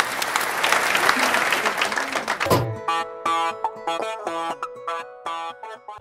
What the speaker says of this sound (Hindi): पूरा सदन एक बार तालियां बजाकर आवाज़ दे